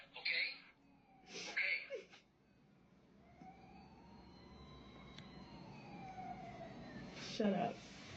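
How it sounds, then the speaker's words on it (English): A toy ambulance siren wails in short rising-and-falling sweeps at a party, with bursts of people talking and laughing around it. "Capture the ambulance sound? Mm-hmm. So no, it's a toy, I think it is."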